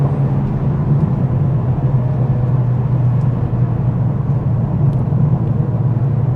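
A 2021 Mercedes CLA45s AMG shooting brake cruises along country roads, its engine giving a steady, loud low drone with continuous road and cabin rumble and no voices.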